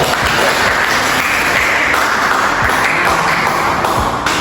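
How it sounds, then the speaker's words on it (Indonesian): Steady applause from a crowd, dense continuous clapping that holds at an even level throughout. "Oke, tepuk tangan"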